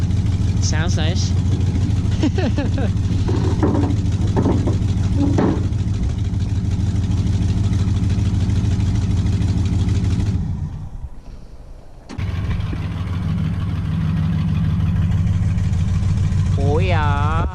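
A project truck's engine idles and runs with a steady low rumble throughout, briefly dropping away near the end, while people talk nearby over it.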